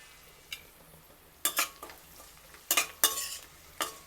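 Onion pieces frying in a pan are stirred in a few scraping bursts, spoon clinks against the metal over a faint, steady sizzle, fairly quiet with pauses between strokes.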